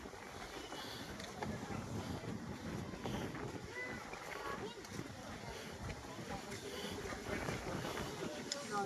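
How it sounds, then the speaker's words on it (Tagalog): Wind rushes and buffets against the microphone in a steady low roar on a mountain hike in Lucban, Quezon, with faint movement and water-like noise in the background. "Sarap ng hangin, no? Malamig."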